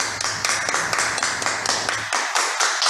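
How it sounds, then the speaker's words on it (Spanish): An audience applauds after a talk on class-based trade unionism, a dense run of overlapping claps that fades out near the end. "nos despedimos con un fuerte aplauso a nuestro señor Oscar Alarcón"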